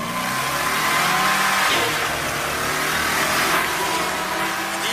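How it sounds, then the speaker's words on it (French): A 325-horsepower V8 car engine with a quad carburetor revving hard, a loud continuous roar that rises and swells twice under load, close up with no talking. "c'est un moteur V8 de 325 chevaux fabriqué dans ce pays"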